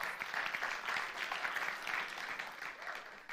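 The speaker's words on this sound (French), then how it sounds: "Vous pouvez l'applaudir déjà pour ce point-là." Faint, distant applause from a church congregation during a French-language youth sermon, a brief soft wash of clapping that holds level before tapering.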